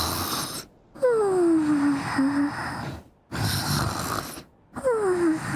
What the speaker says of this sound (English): Paimon, can you please stop snoring?